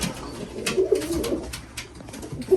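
English Trumpeter pigeons coo softly in a breeding loft, a few low, rounded calls close by, with a brief coo returning at the end.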